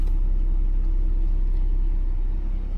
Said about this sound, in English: You probably hear the air blowing